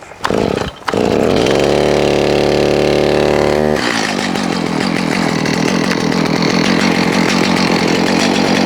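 Chainsaw being primed and pull-started before down-tree removal after 70 mph winds: brief pulls, then the engine catches and runs loud and close, a steady throaty roar with shifting revs throughout.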